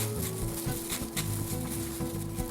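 Pork loin nuggets fry in a pan with a dense, continuous sizzle and light crackle, close and steady throughout with no talking.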